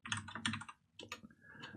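Rapid bursts of computer keyboard typing, close and crisp, in irregular clusters of keystrokes with a short pause midway, no talking.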